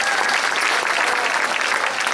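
A room of people at a varsity sports awards night applauds the basketball team in a dense, continuous burst of clapping at an even level throughout.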